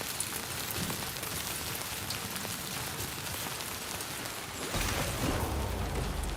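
Steady timefall rain falls in the Death Stranding 2: On the Beach game, a dense wash of drops that swells with a deeper low rumble near the end; no voices.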